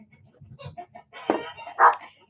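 Backyard chickens cluck in a soft, uneven run of low notes, then a louder squawk or two rises near the end, close by with no talk over them.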